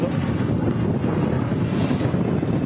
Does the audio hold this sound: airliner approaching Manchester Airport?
yes